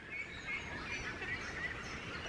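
Ducks and geese with clipped wings on a wood pond on an estate, giving a steady, dense clamour of honking and quacking throughout, moderately close and without talk.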